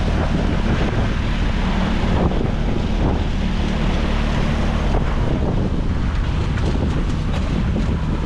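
A Saturn SD518 inflatable boat motors along the New River in Fort Lauderdale, its outboard droning steadily beneath strong wind buffeting and splashing water.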